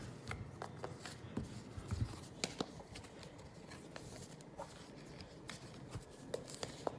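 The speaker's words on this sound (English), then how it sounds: "Okay, so I need to shuffle a bit here" Game cards for a solo board-game campaign are shuffled by hand, giving faint, soft riffles and a scatter of light taps and clicks close by in a quiet room.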